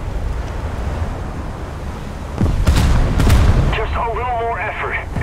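Naval guns boom from warships in a video game. Two or three heavy, dull blasts come close together amid sea and wind noise, with a voice speaking around them.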